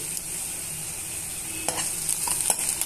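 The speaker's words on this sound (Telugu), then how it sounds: "ఇవన్నీ బాగా మిక్స్ చేసుకొని పచ్చి వాసన పోయేంత వరకు వేయించుకోవాలి" Onion, green chili and ginger-garlic paste frying in a pan, a steady close sizzle with scraping stir strokes growing more frequent toward the end, no talking.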